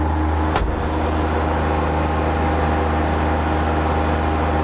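Kubota zero-turn mower engine heard from inside a Curtis enclosed cab, a loud, steady droning hum with constant tonal whine and broadband noise, interrupted only by a brief sharp click early on.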